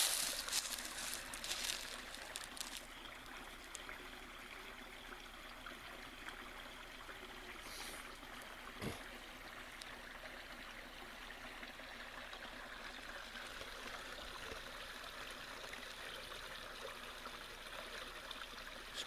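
Small stream flowing over little rock falls in woodland near a cabin, a steady soft rushing and trickling of water, heard alone with no voices.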